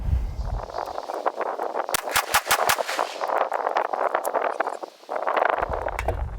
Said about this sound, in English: So I'm gonna load 5 more rounds up and I'm gonna aim for a different corner